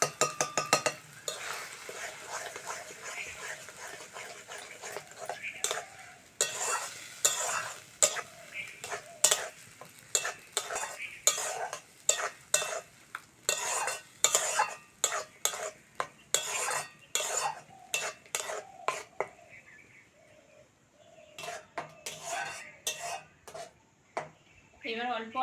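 Mashed green tomato with a little turmeric is stirred and sautéed in a pan, with repeated rhythmic clinks and scrapes of a spatula against metal over a soft sizzle, close by, with a brief lull near the end.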